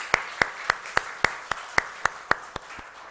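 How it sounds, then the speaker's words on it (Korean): Slow, evenly spaced single handclaps, about a dozen sharp claps roughly a quarter second apart, leading a church congregation's applause during a Sunday worship service, fairly close, with a faint wash of room noise behind. "하나님 앞에 큰 영광의 박수 올리겠습니다."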